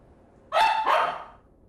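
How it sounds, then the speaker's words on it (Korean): A heavily overweight pet dog gives two quick, loud, close barks in a row, a demanding, insistent sound fading out in a quiet indoor room. "보호자와 눈을 마주치니 떼쓰듯 짖는데요."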